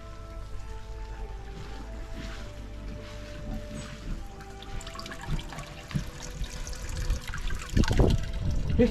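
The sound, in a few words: water running through pond filter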